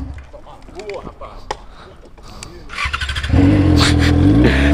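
An old motorcycle engine idles with uneven pops under people talking, then revs up loudly and holds a rough, steady roar close by for the last second and a half.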